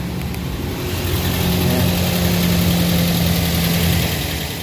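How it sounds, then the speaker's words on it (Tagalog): A Toyota Vios engine idles steadily up close, a low continuous rumble with an even rhythmic chug and no talking. "mandar na yung makina"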